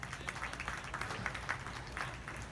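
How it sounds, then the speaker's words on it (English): A crowd at a youth beef market show applauds steady and dense for the exhibitors, a continuous wash of clapping heard at a moderate distance in a large arena-like space. "Let's give them three exhibitors a round of applause."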